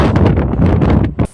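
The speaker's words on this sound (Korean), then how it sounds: "바람 소리를 들려드리도록 할게요." Strong typhoon wind on Jeju Island buffets the microphone in loud, roaring gusts that rise and fall, with a brief lull near the end.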